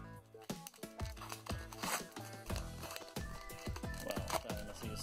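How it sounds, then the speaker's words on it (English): Scissors snip through a Pokemon booster pack wrapper in a quick series of close, crisp cuts mixed with crinkling foil, no talking. "give it a little trim of the scissors"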